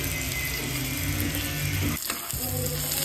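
Garlic and onion leaves sautéing in a pan, a continuous close crackling sizzle with a brief dip in the middle as if stirred, steady and fairly loud.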